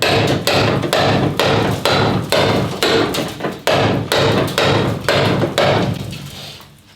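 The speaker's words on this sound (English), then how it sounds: "I'm going to get the hammer out, do some dressing" Steady, rapid hammer blows ring on BMW E30 car body metal, loud and close, about two or three strikes a second, tapering off at the end.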